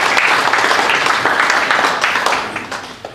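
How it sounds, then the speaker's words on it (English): An audience at an evening political talk in Worcester claps for speaker Jim Carver, brisk full applause that stays loud and then begins to thin and fade toward the end. "I'll ask you to give Jim a round of applause, please"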